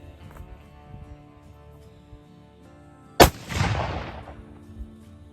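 A single sharp report from a .44 caliber Navy black powder revolver loaded with 25 grains and a round ball, a loud crack followed by a broad, rolling echo that fades over about a second.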